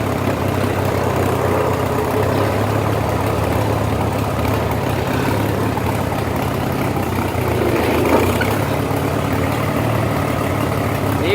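A Farmall H tractor engine idles steadily and loudly up close, a low rumbling putter running continuously without talk.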